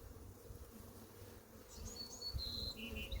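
Honeybees buzz around an opened hive, a steady close drone with a few higher passing whines as individual bees fly near, no talking.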